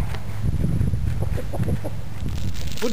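Chickens cluck in short, irregular bursts close by, with a low farmyard background under them.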